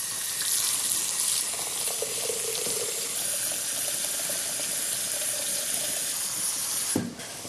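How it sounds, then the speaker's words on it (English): Water pours steadily from a tap into a stock pot over vegetables for a lentil and brown rice dish, a continuous close rushing stream that ends with a sudden clunk. "I want to add enough water to cover the vegetables and then some."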